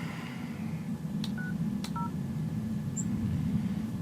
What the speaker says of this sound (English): let's call this phone number that they got on here.